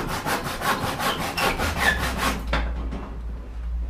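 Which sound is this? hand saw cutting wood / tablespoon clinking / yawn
hand saw cutting wood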